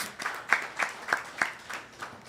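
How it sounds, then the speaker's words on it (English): Audience applause at a Bhagwat Yagna religious gathering: a short, rhythmic burst of several claps in quick succession, moderately loud and close, with no talking over it. "Please give him a clap."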